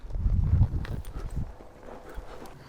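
Horse hooves clip-clop at a walk during a horse training session, several soft thuds close by in the first second and a half, then fading to quieter steps.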